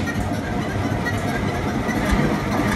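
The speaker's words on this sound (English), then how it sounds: "your muffler's leaking in a few places" A car engine idles steadily with a muffler leaking in several places, producing a continuous low, rough rumble close by with no change in pace.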